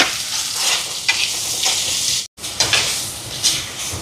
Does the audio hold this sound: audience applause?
no